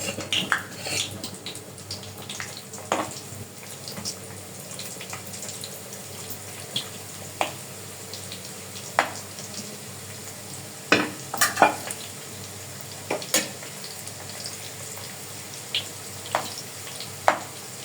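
Chopped snack pieces frying in hot oil on a stove, a steady close sizzle broken by scattered sharp pops and crackles throughout, with no voices.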